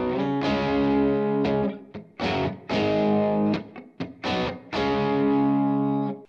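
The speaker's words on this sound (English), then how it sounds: "my dry tone sounds like this" An electric guitar plays short chords and notes with a plain, dry tone and no effects, each one ringing briefly before stopping, with short gaps between.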